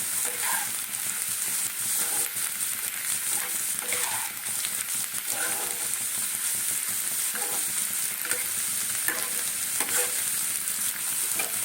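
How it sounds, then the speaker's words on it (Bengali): Vegetables sizzle in butter in a pot for vegetable soup, a steady close frying hiss broken by repeated soft scrapes and stirring strokes of a spoon, with no talk. "সবজি তো বেশি ভাজা হয় না একটু জাস্ট বাটারে একটু নাড়িয়ে নেওয়া"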